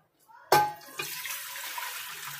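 Water poured from a small pot into a pressure cooker being set up for cooking mutton, a sudden splashing gush that quickly settles into a steady, softer trickling pour close by.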